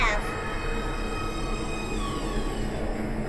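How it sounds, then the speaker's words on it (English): Metro train pulling into an underground station platform in the video game Metro: Last Light Redux, a steady loud rumble of rolling wheels with a faint high squeal of rails throughout. "Please step away from the edge of the platform. Train coming in."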